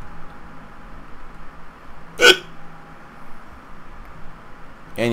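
A single sharp hiccup from a man sits in the middle, followed by a second one at the very end, both alone against a quiet background hum.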